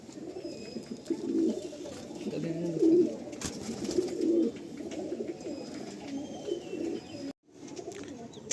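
Madrasi pigeons, a breeder pair, coo in low repeated throaty bursts close by, with steady soft cooing layered through the clip and a brief gap near the end.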